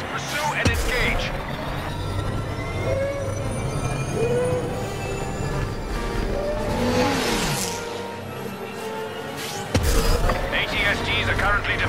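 Speeder bike engines roar and whine through a Star Wars video game chase, a continuous loud mechanical drone with rising and falling pitch sweeps, mixed with music and game effects, plus a voice speaking over it.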